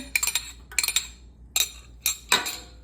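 A spoon clinking against a pot or bowl while yogurt starter is stirred into hot milk on the stove, sharp metallic taps in irregular bursts with quiet gaps between.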